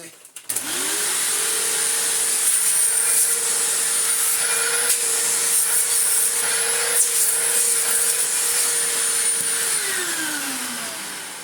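A Hoover Windtunnel upright vacuum cleaner spins up, holds a loud, steady motor whine with airflow rush for about ten seconds, then winds down, close by.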